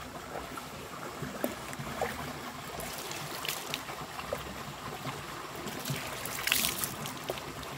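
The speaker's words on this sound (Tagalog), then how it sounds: "Sasalok po ako ng tubig dito." Water being scooped by hand for washing laundry, quiet trickling and splashing with soft sloshes and a few brighter splashes near the end, faint and without speech.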